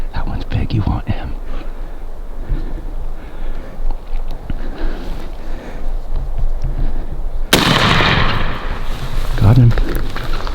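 A single loud shotgun blast fired at a wild turkey during a family turkey hunt rings out sharply partway through, amid outdoor ambience, rustling and low whispered talk.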